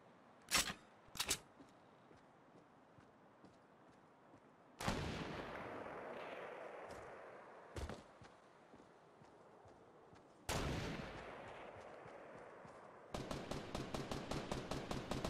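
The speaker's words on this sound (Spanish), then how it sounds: "Ahora se están disparando" Gunfire in the video game Fortnite: a few separate sharp shots, then heavier blasts with decaying tails, ending in a rapid burst of repeated automatic fire, mid-distance and fairly faint with no voices.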